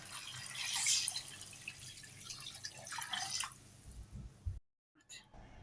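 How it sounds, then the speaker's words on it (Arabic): Water splashes and trickles into a pot of fried, spiced chicken, a close, bright pouring and dripping that stops suddenly, followed by a few faint clinks. "هاي راح أخلي المي"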